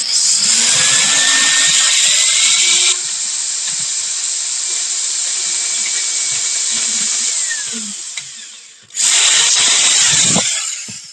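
A power drill runs in a loud, steady high whine, drops to a slightly lower pitch partway through, winds down, then revs back up briefly before stopping, close and dominant.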